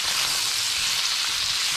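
Red and green capsicums sauté over turned-down heat in a pan, giving off a steady, even sizzle that stays loud and unbroken throughout, with no talking.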